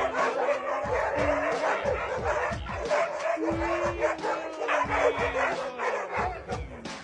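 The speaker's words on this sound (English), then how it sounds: "Suddenly, the dog inside started fighting." Two dogs, a husky and a golden retriever, scuffle indoors with rapid overlapping barks, yips and growls in a continuous, fairly close flurry, with a whining howl drawn out across the middle.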